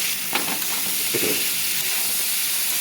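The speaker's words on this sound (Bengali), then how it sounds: "এবার আমি উচ্ছেটা ভেজে নেব" Bitter gourd sizzles and hisses in hot oil, a steady frying crackle with a couple of brief stirring scrapes.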